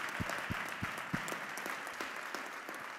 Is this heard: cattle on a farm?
no